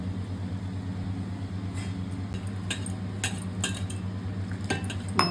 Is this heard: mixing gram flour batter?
yes